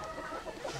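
Young roosters cluck at a breeding farm, a brief burst of close, overlapping clucks with no voices over them.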